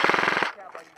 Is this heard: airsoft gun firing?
yes